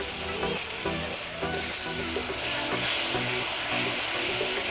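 Egg masala gravy sizzling and frying steadily in a pan after a splash of water is added, with faint stirring scrapes through a continuous close crackle and no talking.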